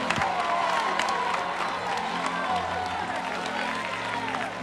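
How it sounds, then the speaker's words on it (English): An audience at a motivational church event claps and cheers in a steady, moderate wash, with voices and shouts scattered through the noise. "Come on, clap like you got juice."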